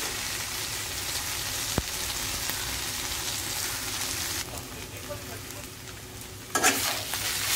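Taro leaves cook with a hilsa fish head over a high flame, a dense steady sizzle and frying crackle with occasional stirring scrapes and a brief louder burst of hissing near the end.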